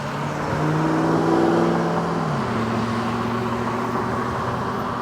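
Cars driving close behind an e-bike on a road without a bike lane, a steady engine hum that shifts pitch as vehicles change speed, with continuous road and wind noise throughout.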